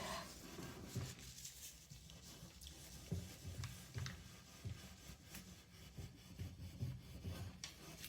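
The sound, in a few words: steel wool rubbing wood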